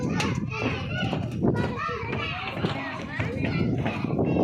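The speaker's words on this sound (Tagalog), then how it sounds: "tignan natin mga bata dun, oh. Na sumisigaw." A group of children shout and squeal while playing outdoors, their overlapping high voices lively and continuous at a short distance.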